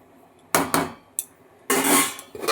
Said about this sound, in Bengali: কড়াইটাকে ঢেকে দিলাম।